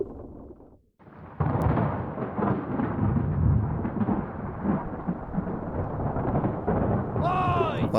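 Deep thunder from an approaching storm rolls in after a short pause in the video game Return of the Obra Dinn. The loud, sustained rumble rises and lingers, with a brief whistling sound near the end.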